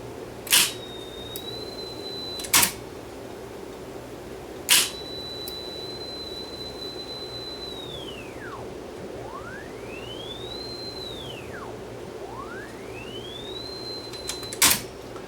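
Capstan motor of an Akai GX270D tape deck under repair, its servo whine sweeping down and back up in pitch as a finger slows it, with several sharp clicks over a faint background hum.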